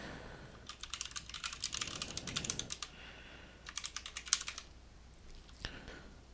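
Rapid keystrokes on a computer keyboard as a terminal command is typed on Ubuntu 18.04, coming in two quick bursts with a short pause between and a single sharper tap near the end, fairly close and with no voices.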